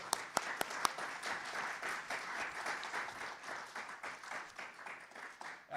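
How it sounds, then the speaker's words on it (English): A crowd at a board of education meeting applauds a student, a few sharp early claps swelling into steady, moderately loud applause that continues throughout. "How about a round of applause for Austin?"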